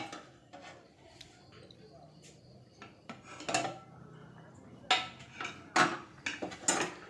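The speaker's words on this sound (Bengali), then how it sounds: "এগুলো দিয়ে একটু নাড়াচাড়া করে আবার ঢাকা দিয়ে রেখে দেব।" A metal spoon stirring vegetable khichuri with beans, tomato, green chilli and cauliflower in a pot, scattered clinks and scrapes that grow louder and more frequent toward the end, close by.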